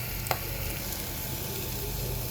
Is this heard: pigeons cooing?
no